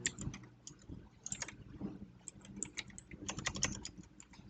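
Computer keyboard clacking while Python code is typed, with rapid, irregular keystrokes in bursts and brief pauses, close and quiet, with no voice over it.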